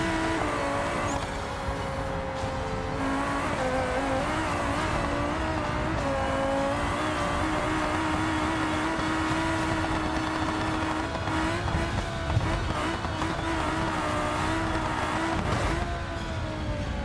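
A Ferrari-like sports car engine in a racing video game revs steadily and loudly, its tone rising and falling between gear changes with the occasional tire squeal, running continuously with no talking.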